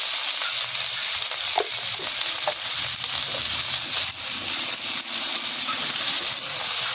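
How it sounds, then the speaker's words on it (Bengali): Cabbage with salt and turmeric frying in a pan, a loud continuous sizzle close by with occasional stirring clinks and scrapes throughout. "বাঁধাকপিটা এরকম হালকা করে ভেজে নিয়েছি।"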